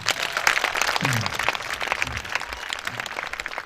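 Crowd at an evangelism crusade applauding and cheering steadily throughout, dense clapping with a few raised voices, fairly loud and continuous.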